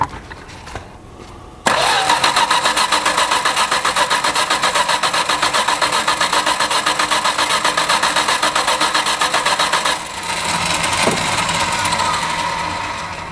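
A Plymouth Valiant engine starts after a faint first attempt, then runs loud and steady close by with a pulsing idle, settles briefly and is given gas again near the end.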